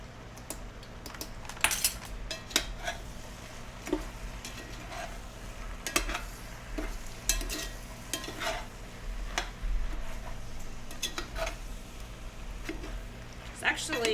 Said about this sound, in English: I'm just going to make sure I coat all of my vegetables.